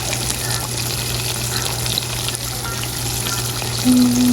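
Homemade crab rangoon, filled with onion and spring onion, frying in hot oil, a steady close sizzle and crackle running without a break the whole time.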